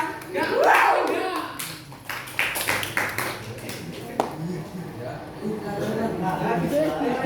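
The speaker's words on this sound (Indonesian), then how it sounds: "Tepuk tangan buat kita." A short burst of applause from a classroom audience at a fish pests and diseases lesson, a few seconds of scattered clapping amid voices talking.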